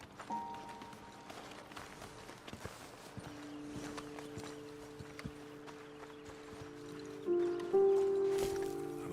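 Horses clip-clopping at a walk in the Red Dead Redemption 2 video game, irregular hoof knocks over a rustling outdoor ambience with sustained musical tones swelling in toward the end.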